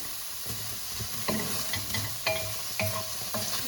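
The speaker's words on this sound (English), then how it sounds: "The onion is caramelizing." Onion and tomato caramelizing in a pan without oil for a Gambian peanut stew, a low sizzle with regular scraping stir strokes about every half second, close and alone.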